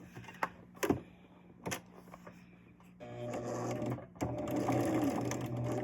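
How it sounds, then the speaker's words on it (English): A sewing machine stitches a sawtooth quilt block in short bursts, with brief whirring runs early on and then a steadier, louder stretch of continuous stitching close by, with no talking. "And then let's stitch again and redeem ourselves to make this block look the way it's supposed to look"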